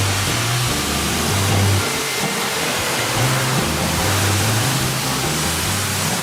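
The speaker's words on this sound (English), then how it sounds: "This car is running so good now." A refurbished car's engine runs steadily with a low, continuous idle drone and a broad wash of noise, holding even loudness throughout with no talking.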